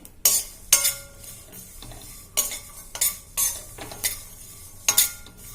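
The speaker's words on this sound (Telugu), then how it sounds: "ఈ నువ్వులు కొంచెం చిటపటలాడేలాగా కొంచెం వేయించాలి" Sesame seeds toasting in a pan while being stirred, giving repeated loud metallic scrapes and clinks of a spatula on the pan over a faint low sizzle, in irregular bursts about once a second.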